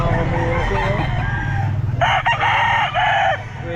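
Several roosters crow loudly and close at a crowded chicken pet market, with overlapping calls and clucking over a steady background hum of the market.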